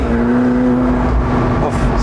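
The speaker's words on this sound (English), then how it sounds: "That turbo spool." McLaren 720S Spider or GT turbocharged engine spools up, a steady whine over a low engine drone heard from inside the car, with a brief rising hiss near the end.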